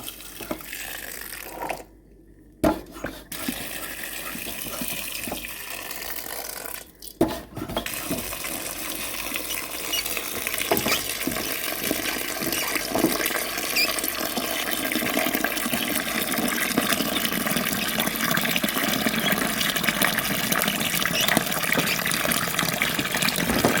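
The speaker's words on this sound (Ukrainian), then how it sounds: "І тепер заливаю водою" Water running from a tap into a pot for fruit compote in a home kitchen, a brief clatter and short gaps early on, then a steady rushing pour that grows fuller as the pot fills.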